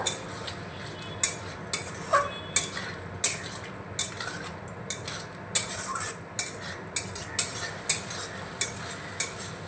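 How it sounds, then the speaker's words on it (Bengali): Ground spices stirred into chopped yardlong beans in a pan, with a soft sizzle under frequent sharp clinks and scrapes of a metal spoon against the pan, steady and close. "গুঁড়ো মশলাগুলো দিয়ে আমি মিশিয়ে নিয়েছি"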